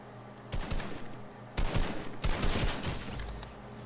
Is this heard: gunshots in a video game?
yes